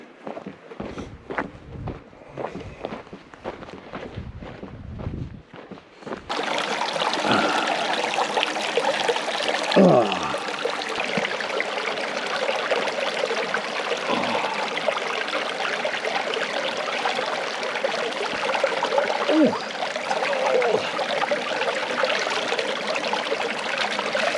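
Weber Creek flows over stones at the Geronimo Trailhead on the Arizona Trail, a steady, close rushing wash after a few footsteps, with no talk.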